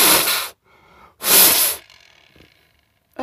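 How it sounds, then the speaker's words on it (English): Two strong, breathy blasts of air as a person blows hard past a wind-powered shark light for cars, each about half a second long, with a faint whir lingering after the second. "there's going to be lots of noise as I blow forcefully past this"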